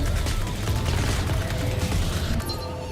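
Submachine gun fire in a video game crackles as a dense, rapid burst of shots lasting about three seconds, loud and continuous, with no one talking.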